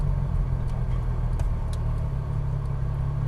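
A Porsche Cayman R engine runs at a low, steady idle rumble while the car is being parked, close and continuous with no talk.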